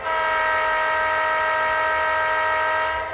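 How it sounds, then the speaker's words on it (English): An Athearn Genesis NS SD80MAC model locomotive's sound decoder sounds its horn in one loud, sustained multi-tone blast lasting about three seconds, with no talking over it. "so here's the horn again. Nice horn, I like it."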